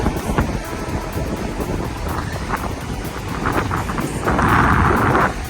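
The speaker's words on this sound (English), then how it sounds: "It is incredibly windy." Strong wind roars against the microphone atop a lifeguard lookout tower at Playa Marlin, Cancun, throughout, with a louder gust near the end; no one speaks.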